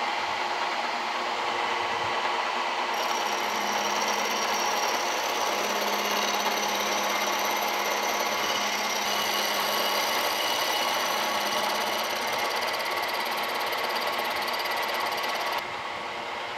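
A milling machine takes a ten-thousandths cut across steel swivel jaws for an Emmert 6A toolmaker's vise, giving a loud, steady grinding whine that runs unbroken for the whole stretch.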